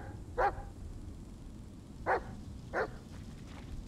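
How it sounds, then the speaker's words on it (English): Three sharp, separate barks from the dog Bullet in the Blair Witch video game, spaced unevenly over a few seconds against quiet ambient background. "Bullet, why are you barking"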